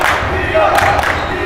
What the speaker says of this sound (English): Everybody on the bench right now is really into it, clapping, chanting